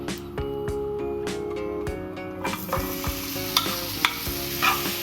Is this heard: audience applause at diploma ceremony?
no